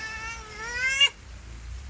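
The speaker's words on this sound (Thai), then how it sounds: "โอ้ยแมวมาอ้อน" A cat lets out one clear, rising meow lasting about a second, close and fairly loud, and it stops abruptly. Quiet background noise follows, with no talking.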